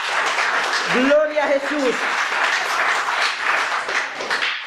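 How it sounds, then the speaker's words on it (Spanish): Congregation applauding during a church service: continuous, lively clapping throughout, with a voice briefly calling out over it. "Denle un aplauso fuerte al Señor."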